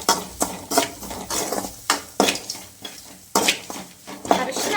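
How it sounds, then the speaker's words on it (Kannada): Spices being stirred and fried in a pan with a little salt, the utensil scraping and clinking against the metal in uneven repeated strokes over a faint sizzle, close by with no talking. "ಸ್ವಲ್ಪ ಉಪ್ಪು ಹಾಕೊಂಡು ಮತ್ತೆ ಫ್ರೈ ಮಾಡ್ಕೋಬೇಕು."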